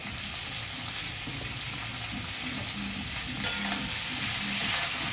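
Mixed vegetables salted in a pan fry with a steady low sizzle while a spoon stirs and scrapes through them, with a couple of brief clinks partway through; no voices.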